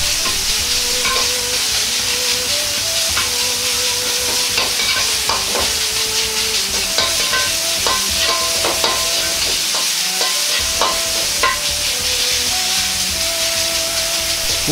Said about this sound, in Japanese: よく炒めていきます。